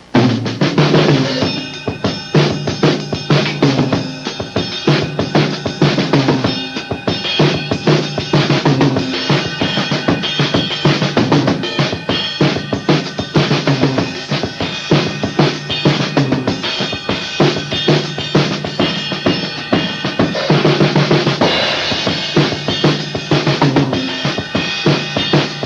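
A busy, loud drum groove plays continuously, dense syncopated hits and cymbal wash blending a funky backbeat with a driving samba feel.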